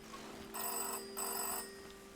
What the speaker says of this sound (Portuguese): Está a tocar o telefone.